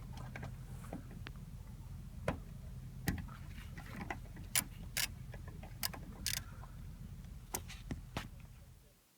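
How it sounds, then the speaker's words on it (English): A 10mm socket wrench loosens bolts on a Mercedes S-Class W221, a series of faint, quick ratcheting clicks and sharp metallic ticks in short bursts against a low background hum. "unscrew those 6 10mm bolts with a 10mm socket wrench"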